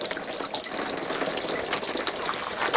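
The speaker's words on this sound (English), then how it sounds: "The water should start pouring out." Water gushes out of the drain of a Suburban SW6DE RV water heater in a loud, continuous splattering rush, close and steady with no voices.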